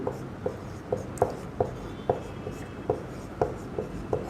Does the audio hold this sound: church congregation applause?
no